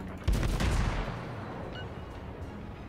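Guns of the cruiser Atlanta firing in World of Warships, a sudden heavy booming salvo that rolls and decays over a couple of seconds into a low rumble.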